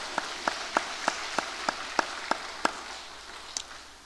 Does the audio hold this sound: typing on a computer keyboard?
no